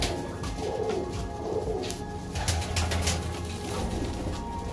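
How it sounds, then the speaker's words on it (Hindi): Many pigeons coo inside a farmhouse room, soft repeated cooing calls rising over a busy, noisy room background, with occasional wing rustles and no talking during it. "यहाँ पर तो काफ़ी ज़्यादा मौजूद होंगे, जिसकी आवाज़ भी आपको आ रही होगी।"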